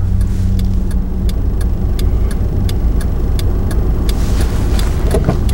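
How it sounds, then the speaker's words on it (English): A car passing fairly quickly through an intersection, heard as a loud, steady engine and road roar close by, with regular ticking clicks running through it. "I'm gonna wait for that vehicle because it's going fairly quickly."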